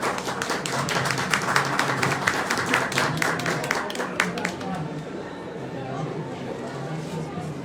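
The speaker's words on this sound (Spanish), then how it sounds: "Un abrazo o un aplauso fuerte para Carlos." Audience at a poetry reading during the 33rd Bogotá International Poetry Festival applauds a poet, a dense burst of clapping for about five seconds that fades out into room murmur.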